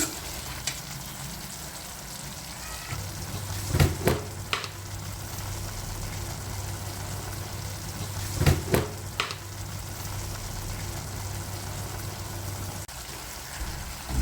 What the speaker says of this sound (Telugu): మెంతికూర వేసాను, అలాగే ముందుగా కట్ చేసి పెట్టుకున్న కాజు పేస్ట్ కూడా వేసానండి ఇందులో